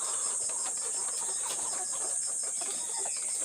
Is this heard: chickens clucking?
yes